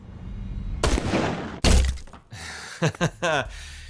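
A bullet strikes bulletproof glass in a gunfight scene from a Punisher TV series: a loud cracking impact, then a second heavy thump, followed by shorter clicks and a rattling, sliding tail amid scene noise.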